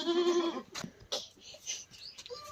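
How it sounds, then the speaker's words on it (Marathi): Goats bleating up close on a relative's farm, a loud harmonic bleat at the start followed by shorter scattered calls and rustling. "हे बकऱ्या"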